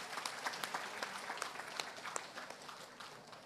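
A crowd at a Perikatan Nasional political rally in Kangar breaks into rapid, dense applause, sustained clapping heard from a distance and fairly faint, gradually tapering off.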